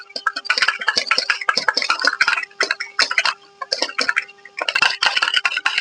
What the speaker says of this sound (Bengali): এই পুঁই পাতা নির্যাসের সঙ্গে কলগেটটা ভালো করে মিশিয়ে নিতে হবে